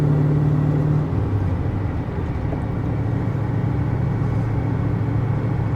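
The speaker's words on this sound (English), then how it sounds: "Yeah, it's quieter in a truck cruising." A pickup truck cruises with its exhaust running without the glasspack muffler, giving a steady low rumble and road whir from inside the cab. The sound is continuous and moderately loud, with no speech.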